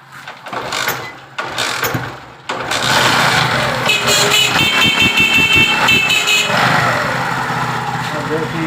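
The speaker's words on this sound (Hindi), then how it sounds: "बैटरी के बगैर किस तरह हॉर्न बज रहा है।" A vehicle horn wired to sound without a battery blares loudly and steadily for several seconds after a few short engine bursts and mechanical clatter, close to the microphone.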